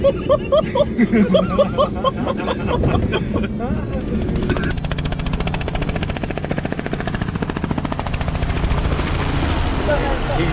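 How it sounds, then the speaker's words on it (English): A helicopter's rotor chops rapidly and steadily, loud and close, passing overhead in the Kimberley outback, after a few seconds of chatter and background noise at the start. "What's that noise? Chopper. Oh, helicopter, right."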